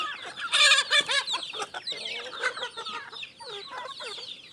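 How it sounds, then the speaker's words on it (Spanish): Large farm rooster of a giant creole chicken breed clucking close by, a run of loud choppy squawks and clucks that fade into softer, irregular calls. "Este es un gallo."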